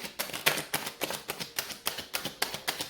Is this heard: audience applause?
no